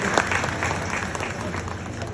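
Audience clapping at a women's gathering celebrating Ahilyabai Holkar's birth anniversary, a steady, dense round of applause from a crowd with some voices mixed in, fairly even throughout and moderately loud.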